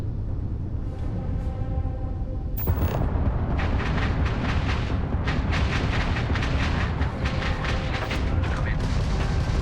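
Spaceship weapons fire in the space game Starfield: a dense, loud barrage of booming blasts and rapid gunfire bursts, starting with a sharp crack and continuing steadily.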